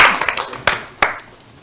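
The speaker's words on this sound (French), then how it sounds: "On applaudit très fort pour Institut de la Gombe 2." A few scattered hand claps ring out sharply at a show where school groups receive certificates, three or four distinct bursts over a brief stretch, with faint background chatter.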